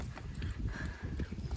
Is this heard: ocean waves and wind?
no